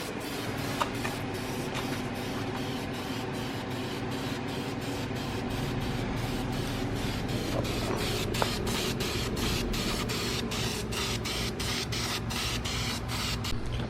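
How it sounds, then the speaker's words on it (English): A steady hiss of spray from an aerosol can painting brake rotors for a Nissan 240SX runs continuously and fairly loud over a constant mechanical hum, with faint clicks now and then. "So give them a quick little spray and we should be good."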